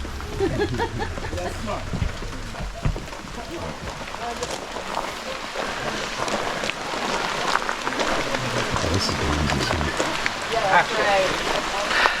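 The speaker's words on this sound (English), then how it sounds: "We're in the rainforest now. It's raining." Steady rain pattering on leaves and surfaces all around in a Caribbean rainforest, a dense hiss with scattered drips, some faint low rumble underneath.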